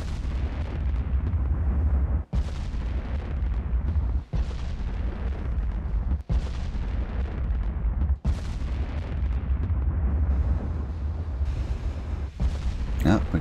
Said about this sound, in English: Nice steady metronome of turrets firing.